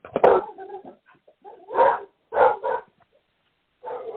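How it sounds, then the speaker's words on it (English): Dogs bark in several loud, close bursts with pauses between them, some yips and whimpery tones mixed in, set in the background of a group call. "somebody has dogs."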